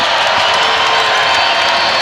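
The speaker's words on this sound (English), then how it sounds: "the crowd gets into it" A college basketball crowd roars steadily during a game between Utah State and Boise State, a dense, loud wash of cheering and shouting that stays constant and unbroken throughout.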